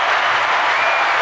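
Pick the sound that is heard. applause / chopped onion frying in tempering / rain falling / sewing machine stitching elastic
applause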